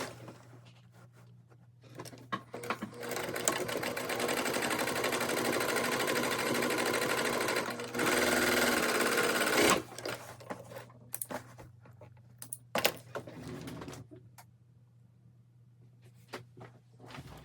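A Brother 934D serger runs at close range finishing a fabric edge, a rapid steady stitching drone for several seconds that stops, restarts briefly, then gives way to short clicks and handling noises.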